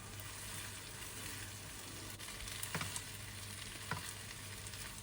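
Broccoli being stirred in a frying pan makes a steady sizzle with a few scraping strokes near the middle. The sound is close but fairly quiet, and no one speaks.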